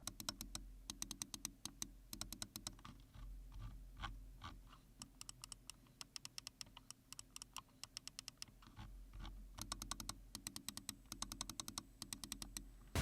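Rapid, crisp clicks of a budget Corsair wireless gaming mouse's buttons in uneven bursts, close and fairly loud, with short pauses between runs over a low steady background hum.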